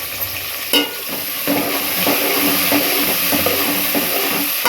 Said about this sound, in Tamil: அதையும் போட்டு நம்ம வந்து கொஞ்சம் நேரம் நல்லா எண்ணெயிலே இந்த ஆயிலே வேகட்டும் ஒரு டைம் நல்லா மிக்ஸ் பண்ணிக்கிட்டுக்குவோம்